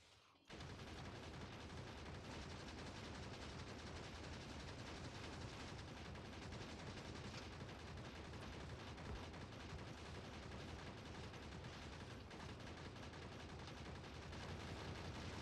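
Dense, continuous gunfire and explosive rumble from the factory-building game Factorio, a steady wash of overlapping shots lasting many seconds at an even, moderate level with no voices.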